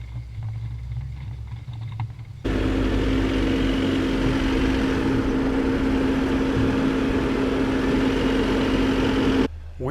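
A 2-liter twin turbo Jeep engine works up a trail climb with its cooling fan revving loud, a steady close droning roar with a constant hum that swells louder after a couple of seconds and holds.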